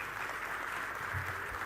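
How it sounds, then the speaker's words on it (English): Brief round of audience applause for a government minister at a global tourism resilience conference and expo, a soft, even wash of clapping heard from a distance. "A round of applause for Honorable Minister."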